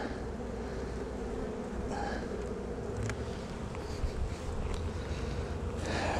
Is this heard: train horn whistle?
no